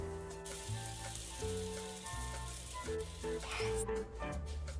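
Chicken brushed with butter sizzling in a lightly oiled pan over medium-high heat, a continuous quiet frying hiss layered with faint tonal background hum, close by, without speech.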